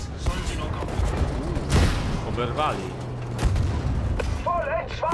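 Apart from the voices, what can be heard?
gunfire in a video game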